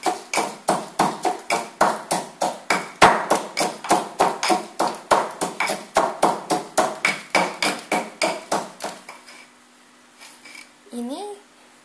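Bird's eye chilies and seasoning are pounded for sambal in a rapid, steady series of sharp rhythmic thuds, loud and close, for about ten seconds before stopping, followed by a brief voice.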